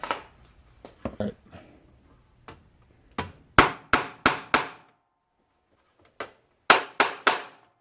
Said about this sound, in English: Just smacking those little burrs down